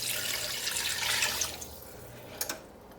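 Water pours into a cooking pot over caramelized ingredients, a steady broad splashing rush that fades out after about a second and a half, followed by a couple of brief clinks.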